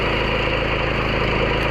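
A BCS 732 two-wheel tractor engine runs steadily at close range, a loud, continuous mechanical drone with a fast, even pulsing throughout and no voices.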